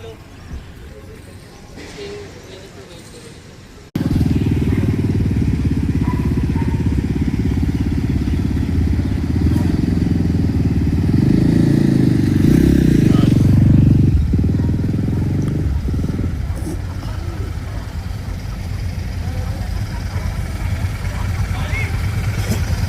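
A group of motorcycles firing up and idling together at a roadside breakfast stop before a club ride, a loud, steady, rumbling engine chorus that swells midway, with people talking throughout.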